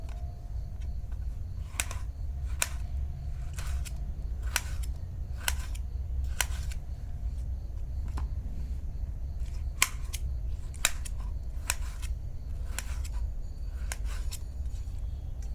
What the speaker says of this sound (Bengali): এখন আমি টমেটোটা কেটে নেব।